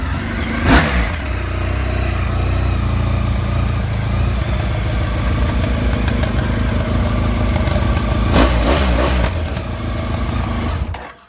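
A Honda VFR 1200 with an aftermarket exhaust cranks and fires up near the start, then holds a loud, rumbling idle with a sharp blip of revs later before cutting off abruptly; no one speaks.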